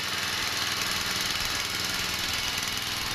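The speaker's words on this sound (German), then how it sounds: "wenn man zum Rudolf kommt, zum Filmen, dass man dann nachher einen Rasenmähertraktor repariert" Lawn mower tractor engine running steadily on a test drive after repair, a continuous close mechanical drone with no talk.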